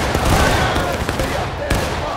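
Rapid volley of gunfire in a multiplayer war video game, several close, loud bursts in quick succession over a noisy background with a voice present.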